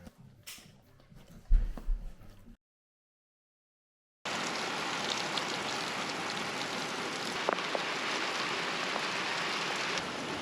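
Steady rain patters and hisses for several seconds after a short stretch of handling noise and a moment of silence.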